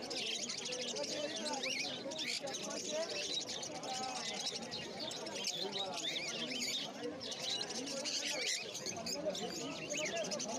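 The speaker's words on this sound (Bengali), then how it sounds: "এই খাঁচাটার মধ্যে কিছু লুটিনো লাভবার্ড, রোজি লাভবার্ড, স্পেশাল লাভবার্ড আছে।" Lutino, rosy-faced and Fischer's lovebirds chirping in a cage at a busy pet market, a dense continuous chatter of high twitters mixed with crowd noise and nearby talking.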